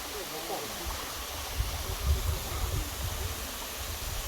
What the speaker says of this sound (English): That's the bottom of the waterfall.